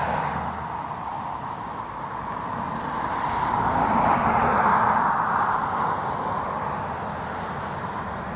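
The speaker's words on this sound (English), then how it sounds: "Bit of road banger going on there." A noisy old car passes on a road near Dublin Airport on a windy day, its engine roar swelling to a peak midway and then easing off, with no talk over it.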